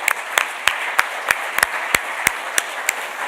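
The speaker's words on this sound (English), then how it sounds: "Round of applause for Steph." A small audience at a forces families awards event claps in a sparse, uneven rhythm of distinct sharp hand claps.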